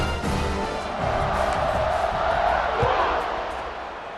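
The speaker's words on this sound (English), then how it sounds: "this crowd is buzzing after that last score" A steady, loud stadium crowd roar hums throughout a College Football 26 game just after a touchdown, with a commentator talking over the buzz.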